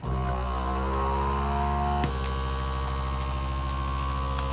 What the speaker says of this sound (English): We're gonna vacuum seal it.